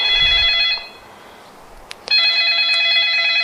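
A new phone rings with a bright electronic trill that stops briefly and then starts again, loud and close, with no voices over it.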